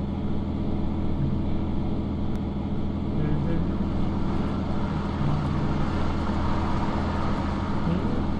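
A bus engine in European Bus Simulator 2012 drones steadily and accelerates, a constant low hum with a faint rising tone, while someone talks over it.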